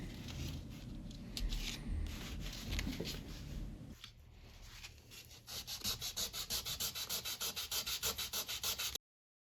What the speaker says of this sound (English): You can use a very fine grit sandpaper and polish at the end.